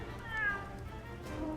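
A cat from the video game Monster Hunter World gives a short, faint meow, with a rising then falling pitch, over a quiet background of game ambience.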